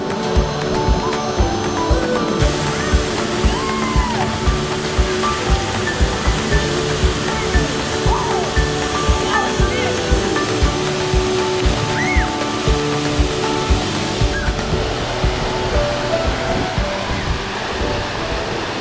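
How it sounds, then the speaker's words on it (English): A tropical waterfall pours in a steady, loud, broadband rush that stays constant throughout, with faint voices occasionally audible beneath the roar of the water. "What better place than a tropical waterfall?"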